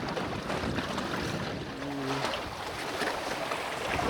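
Steady wind and water rush surround a KaaNoo sailing kayak out on open water among sandy islands, with a brief low tonal hum partway through and no voices.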